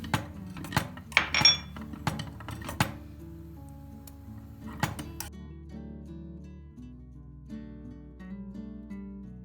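Metal spoon clinks against a pot while vanilla and margarine are stirred into thickened stovetop pudding, a cluster of bright taps and scrapes early on that thins out to quiet background hum.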